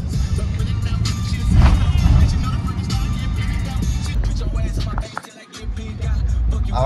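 A car drives through Boston streets, a loud, steady engine and road rumble heard from inside, with a brief dip in the noise partway through and voices talking over it.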